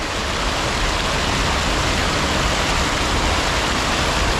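The Badol River in Quezon, Nueva Vizcaya, rushing loud and close as a dense, unbroken roar of water that stays steady throughout.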